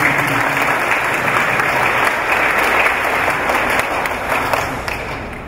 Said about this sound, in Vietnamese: chúng ta vỗ tay thật lớn để các chị